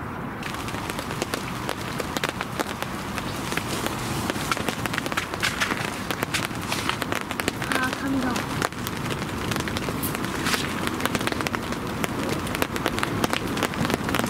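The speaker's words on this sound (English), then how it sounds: "It's drizzling and we've got a thick overcast sky." Light drizzle falling on a bank during overcast weather while eel fishing, a steady soft patter with scattered drops throughout, close and continuous, with occasional faint rustling.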